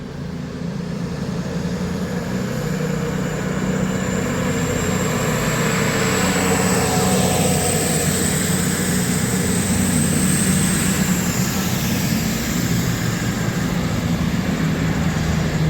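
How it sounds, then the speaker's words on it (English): A cross-country passenger train departs Stockport station, its steady diesel rumble and broad rushing noise holding for the whole stretch, with a faint high whine gliding upward through the middle as it pulls away. "So you've got a cross-country service departing now."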